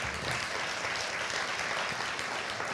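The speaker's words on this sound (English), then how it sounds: "give a big round of applause" A large audience at a celebration of Indian culture gives a dense, continuous round of applause that stays loud and even throughout, with no voices over it.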